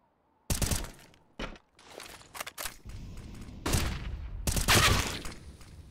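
Rifle gunfire in a professional Counter-Strike esports match on the Nuke map, sharp bursts and single shots in irregular clusters with brief gaps, some shots crisp and near, others more muffled.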